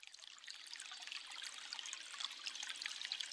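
Water of a stream flowing steadily, a soft continuous trickling and burbling heard alone at low volume throughout.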